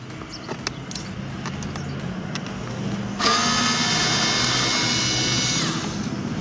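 A power tool whirs steadily as it backs out two screws holding the door switch on a Mazda CX-7, rising to a louder, higher whine midway through, with faint clicks earlier and no talking.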